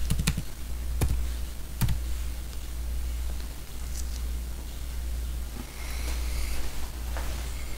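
Keys typed on a computer keyboard during a density-of-states calculation setup: a few sharp, close clicks in a short burst and then sparse isolated taps over a low steady hum, with no talking.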